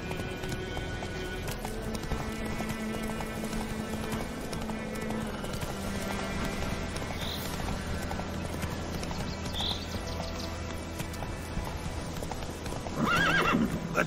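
A horse in the video game The Witcher 3, hooves clip-clopping in a quick, steady gallop under game music, with a whinny near the end.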